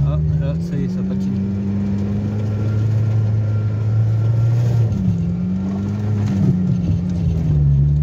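A car climbing a slope with its tyre spinning and slipping, the engine holding a steady strained drone that dips and surges as grip is lost, close and loud, with people talking over it.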